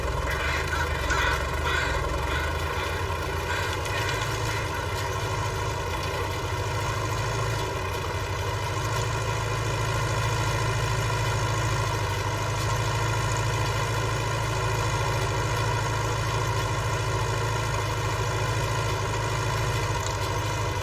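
Tractor engine running steadily at idle, low and constant throughout, in a field during winter wheat drilling, with no voices.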